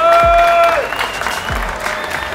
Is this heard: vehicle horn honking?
no